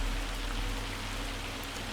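Steady rain with hail drumming down outdoors, a dense continuous hiss and patter that stays loud and even throughout, with no voices.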